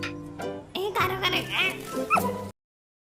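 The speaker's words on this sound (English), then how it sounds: "The dog is chasing the butterfly and left his employer." A cartoon dog chasing a butterfly barks and yips in short, high, excited bursts, close and loud, then the sound cuts off abruptly.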